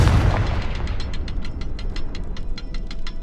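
A Confringo fire spell blasts in Hogwarts Legacy, a heavy booming burst at the start that leaves a rumbling roar, while a rapid rhythmic crackle pulses on steadily behind it.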